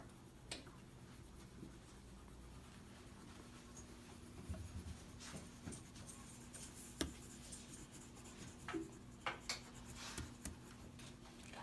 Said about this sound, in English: now I want you to go ahead and just lightly color in each one of those boxes on your grid paper